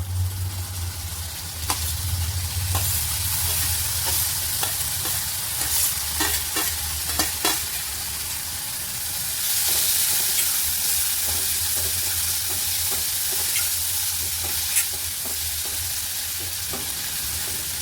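Tomato cooks in a sizzling pan as a spoon stirs it, with repeated scraping clicks over a continuous frying hiss that swells louder midway.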